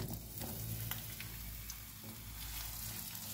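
Onions dropped into about four spoonfuls of hot olive oil for a fish sauce, giving a soft, steady sizzle and crackle with a few light stirring scrapes, heard alone.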